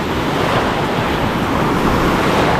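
Loud, continuous rush of churning water and surf from a wave pool, broadband and close, with no voices.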